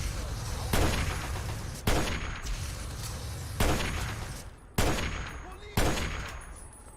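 MG42 assault rifle gunfire in a Fallout video game: five loud, sharp bursts about a second apart, each trailing into a noisy rumbling decay over constant background noise.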